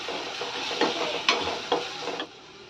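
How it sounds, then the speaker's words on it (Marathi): Powdered spices fry in oil with vegetables as a utensil stirs through the pan, giving a steady sizzle broken by a few scraping knocks, fairly quiet and without talking. "असे पावडरचे मसाले घालताना ना असे पसरवून घालायचे म्हणजे सर्व तेलात व्यवस्थित असे ते परतले जातात आणि ह्याला मिक्स करून घ्यायचं"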